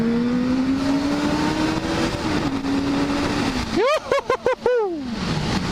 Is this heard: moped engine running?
yes